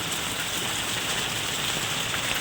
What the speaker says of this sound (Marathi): हा पाऊस चालू आहे तुम्ही बघू शकता